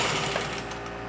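A sewing machine runs steadily as it backstitches along the edge of a fabric placemat, a close, continuous mechanical whir with fast rhythmic stitching ticks and no voices.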